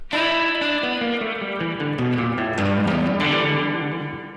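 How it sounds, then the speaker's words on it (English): Electric guitar played through a Canyon delay pedal set to its shortest delay time, giving a reverb-like wash; sustained, distorted chords ring out loud and close for several seconds without any talking. "when you set the delay timing to its lowest setting, you just got a normal reverb"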